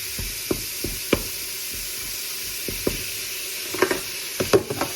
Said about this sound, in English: Then throw your onions in just to get that broke up.